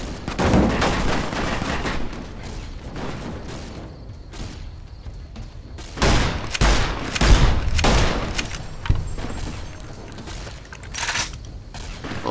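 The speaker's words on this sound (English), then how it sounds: "He's firing 308s." Rapid .308 rifle shots crack in the game Fallout: New Vegas, loud bursts and volleys scattered across the clip with mechanical clatter in between.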